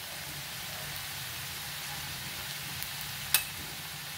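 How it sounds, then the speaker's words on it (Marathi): Chopped onion sautéing in oil in a pan for a groundnut amti, a steady even sizzle throughout with a brief click near the end and no voices. "आता इथं आपला कांदा छान परतलेला आहे"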